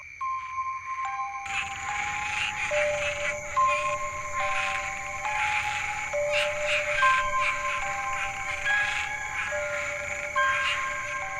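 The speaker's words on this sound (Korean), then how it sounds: "그 어둠 속에서 울리는 수천 마리 개구리의 울음소리는" A dense chorus of thousands of frogs in countryside rice paddies calls continuously at night, layered high-pitched trills and chirps overlapping steadily at a distance.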